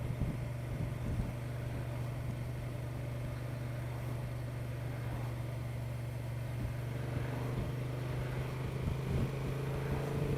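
A Honda Transalp XL750 motorcycle is ridden along a road, its engine droning at a steady low pitch under constant wind rush, with no voice heard.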